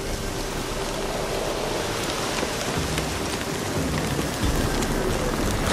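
Steady rain in Witcher 3 hisses on surfaces without a break, dense and even, with a faint low rumble beneath like distant thunder.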